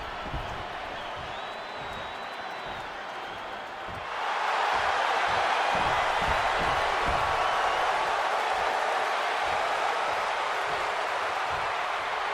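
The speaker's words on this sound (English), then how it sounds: "And this capacity crowd just exploded." Capacity arena crowd in the WWE 2K26 video game bursting into loud cheering, a sustained roar that swells suddenly and stays dense and continuous.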